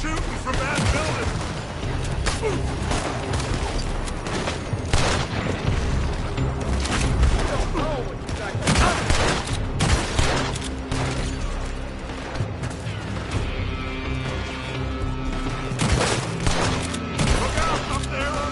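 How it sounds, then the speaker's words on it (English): Gunfire coming from a building during a shootout, with repeated shots and bursts over a busy mix of background sound, continuous and moderately loud, with voices speaking at times. "They're shooting from that building!"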